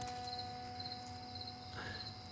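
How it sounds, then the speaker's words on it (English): Crickets on a summer night, a faint, continuous high trilling with soft pulses, heard quietly behind low steady hum and without speech. "The crickets showed up."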